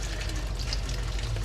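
Hot water runs steadily from a propane-fed tankless hot water heater, a continuous broadband rushing and gushing flow with no talk over it.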